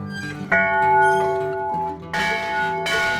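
A large McShane bell cast in 1898 rings out loudly in slow strikes, each tone lingering and humming between hits.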